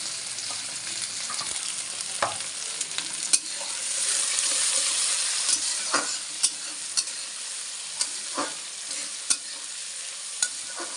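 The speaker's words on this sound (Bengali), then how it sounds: "এটা সবজিটা ভেজে নিচ্ছি ফার্স্টে।" Capsicum, beans and potato fry in hot oil in a wok with a steady, bright sizzle, broken by sharp clinks and scrapes as a spatula stirs the vegetables every second or so.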